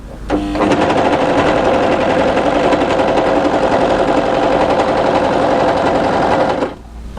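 A sewing machine runs a stretch seam on a winter tee dress, a steady loud mechanical whir with rapid needle chatter that starts abruptly and holds for about six seconds before stopping, close and alone.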